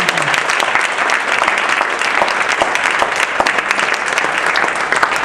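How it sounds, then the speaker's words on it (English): Loud, close applause from an audience for the speakers, a thick continuous clatter of many hands with sharp individual claps popping out of the wash throughout. "Round of applause for our speakers"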